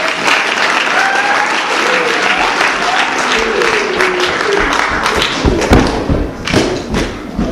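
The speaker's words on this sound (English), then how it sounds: "let's give Nate a round of applause" A crowd at a live improv comedy show claps loudly and steadily for a performer, dense sustained applause with a few thumps and audible cheers near the end.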